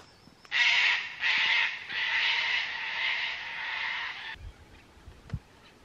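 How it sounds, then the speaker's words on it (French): Harsh, raspy parrot calls ring out in a few bursts, then blur into a sustained squawking chorus before stopping abruptly, leaving quiet outdoor bush ambience at a campsite in Monto, Queensland, Australia. "Notre première nuit dans un camping australien à Monto, dans le bush, au bruit des perroquets."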